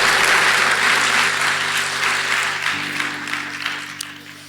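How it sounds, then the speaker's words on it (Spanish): A church congregation applauds during a service, loud sustained clapping from many hands that slowly thins and fades over several seconds, with a low organ or keyboard drone underneath. "Dele un aplauso al Señor"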